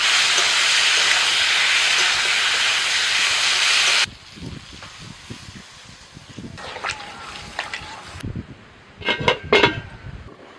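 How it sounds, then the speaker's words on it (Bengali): Ridge gourd and potatoes frying in hot oil, a loud dense sizzling hiss for about four seconds, then quieter crackling and stirring clinks as spice paste goes into the pan. "ঝিঙে আলু কিছুক্ষণ ভেজে নিই এবার বাটা মশলাটা দিয়ে দিচ্ছি"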